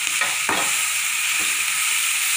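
Chicken seasoned with black pepper and salt being added to a pan and stirred, a steady close sizzle with a few scraping stirs over the hiss, no voices.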